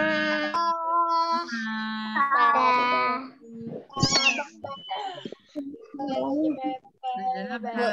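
A series of repeated meows with pitch sweeps, close and fairly loud, comes from a cat or a voice imitating a cat, with short pauses between calls.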